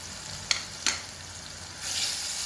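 Coriander powder and a piece of cinnamon frying in hot oil for a Rajasthani cauliflower dish, two sharp clinks of a spoon against the pan over a quiet sizzle that swells into louder hissing near the end.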